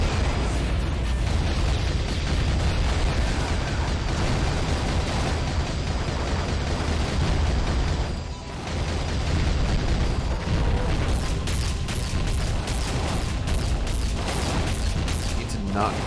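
Concussion missile explosion underwater in the 2001 game Aquanox: a dense, continuous low rumble of blasts and bursts, loud and sustained with a brief dip midway, then a rapid crackling of repeated pops near the end, with speech over it.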